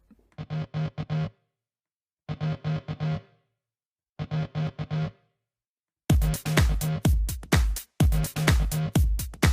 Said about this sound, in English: That just gives us a short room reverb.